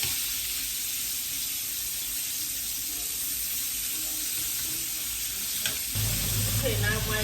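Fish frying in a pan for a sandwich recipe, giving a steady broadband sizzle throughout, with a louder surge of crackling and a low rumble near the end.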